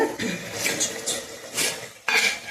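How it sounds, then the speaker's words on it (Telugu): Masala goes into a prawn curry in a pan, with several short bursts of metal clinking, scraping and clattering from a spoon against cookware. "నేనైతే ఇప్పుడు మసాలా వేస్తున్నానండి"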